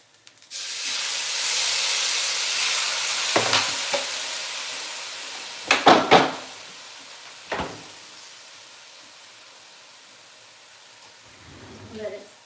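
Lobster steaming in a pan with a little water added gives a loud hiss that swells early and then slowly fades, broken by a few sharp clatters and knocks of cookware.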